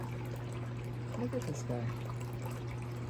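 Fresh running water pours in a steady trickle so a cat can drink, beneath close conversational speech and a constant low hum.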